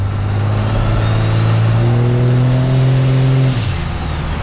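A 1000-horsepower 4th Gen 6.7 Cummins diesel race truck drives along, its engine droning loud and steady from inside the cab, with a rising tone that then drops as it eases off.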